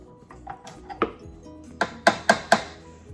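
A mixing bowl is set down on a kitchen counter during keto cheesecake making, a few soft knocks followed by several sharp, close ceramic clatters in quick succession.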